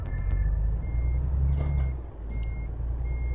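Reversing beeps from a truck in Euro Truck Simulator 2 sound as a steady repeated electronic beep over a loud, low engine rumble, with a brief air-brake hiss partway through.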